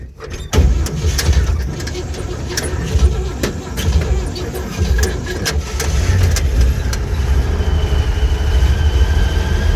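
An old vehicle's engine cranks and tries to start, heard up close as a loud, rumbling churn with irregular clicks and sputters that never settles into a clean idle.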